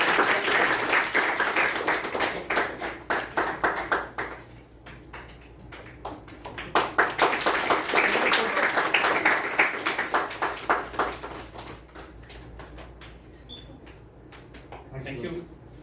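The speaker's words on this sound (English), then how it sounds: "let him be given a big round of applause for giving" Big round of applause for DTM Murali at a Periyar YLP 2022 ceremony, dense clapping swelling in two long waves with sharp individual claps, then thinning to scattered taps.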